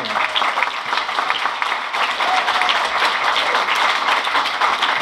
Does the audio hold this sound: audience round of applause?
yes